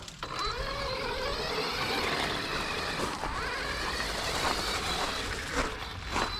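A Team Magic Seth RC car running on a 6S battery with a metal pinion on a metal spur gear gives a continuous, fairly loud mechanical whine and whir with a steady high tone.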